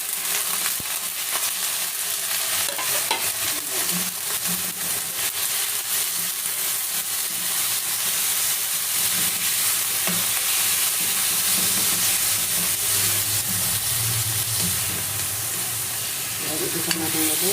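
Pork and pork fat fry loudly in a hot pan, a dense continuous sizzle with steam hiss and repeated stirring scrapes, close and steady throughout.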